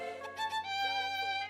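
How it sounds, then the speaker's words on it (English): Violin in an FL Studio beat drop, a brief sustained bowed phrase with rich overtones over a low synth bed, heard alone. "When the beat drops, you will hear this violin."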